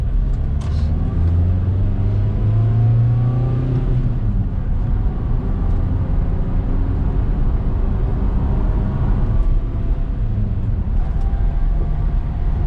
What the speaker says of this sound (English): It's only in the higher gears it went into limp mode, so I need to get in some higher gears